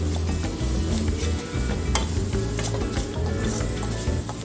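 Ginger-garlic paste sizzles loudly in a hot pan as a spoon stirs and scrapes through it, a dense, continuous frying hiss close up with no talking.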